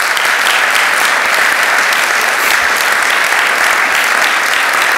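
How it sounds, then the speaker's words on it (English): Steady, loud round of applause from an audience at a college achievement day honoring a professor, dense clapping throughout with no talk over it. "Can we give Kevin a round of applause?"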